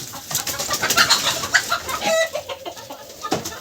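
Desi chickens clucking and calling in short, irregular bursts, fairly close, with a few higher bird chirps scattered through.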